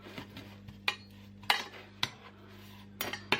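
A pan set on the cooker for melting, several sharp metallic clanks and scrapes spaced irregularly over a quiet kitchen hum, close and moderately loud.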